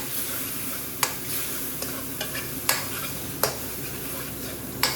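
Madras-style curry sauce with lemon juice, mango chutney and Worcestershire sauce sizzles steadily in a pan, close and continuous, with several sharp scraping stirs of a utensil spaced a second or so apart.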